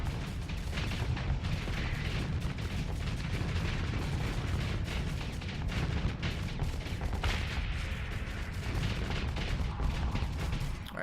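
Continuous automatic weapon fire from ships in the space game StarSector: a dense, loud barrage of overlapping shots and booms with no pause.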